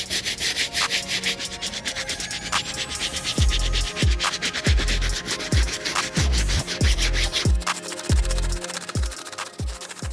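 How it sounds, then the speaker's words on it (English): Medium bristle brush scrubbing the suede and midsole of an Air Jordan 12 Olive sneaker during a restoration, a steady close rasping rub with rhythmic strokes throughout, no talking. "For the uppers, we'll be using our medium bristle brush to take care of the midsole"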